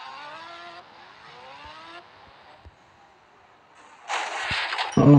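A motorcycle in the mobile game Indian Bikes Driving 3D: the engine note rises and falls through gear changes, fairly quiet, then a louder burst of revving near the end.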